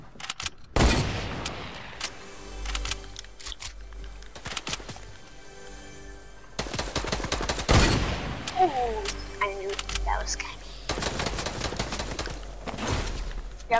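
Rapid gunfire in the Fortnite video game: bursts of close, loud shots and volleys layered over steady game ambience, with occasional distant firing too.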